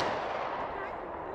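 A single loud gunshot at an outdoor shooting party, heard as a brief burst of blast noise that rolls off and fades over about a second, close by.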